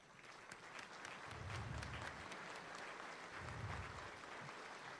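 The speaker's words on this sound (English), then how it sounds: "Let's continue to give a round of applause for Ms. Afton Brown and Mr. Andrew Wren." A graduation audience applauds continuously in a large hall, a faint, even wash of clapping swelling slightly twice.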